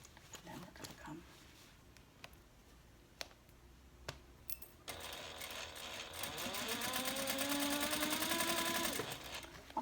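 Sewing machine stitching a half-inch seam on a handbag's internal zipper pocket: quiet handling clicks at first, then the motor starts and runs in a steady, rising, rhythmic whir.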